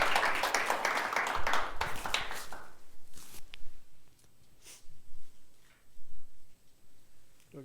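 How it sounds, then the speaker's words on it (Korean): An audience in a Korean church seminar setting applauds to welcome a speaker. The dense clapping is loud and sustained for about two and a half seconds, then breaks off into a few scattered claps and room noise. "박수로 한번 환영해 주시면 감사합니다."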